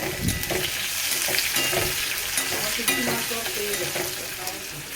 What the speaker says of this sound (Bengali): এই দেখো, ডাল ফ্রাই করবো